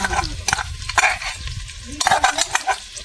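Finely chopped onion sizzling in a hot pan while being stirred, a close, steady frying hiss broken by scraping strokes of a spoon, with no voices.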